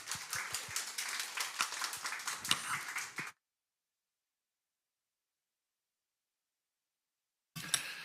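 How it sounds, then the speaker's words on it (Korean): Church congregation clapping together during a Sunday worship service: a dense burst of applause for about three seconds, a long gap of silence, then the clapping returns briefly at the end. "우리 영광의 박수 올려드리겠습니다"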